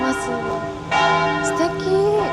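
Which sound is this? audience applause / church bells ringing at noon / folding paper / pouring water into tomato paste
church bells ringing at noon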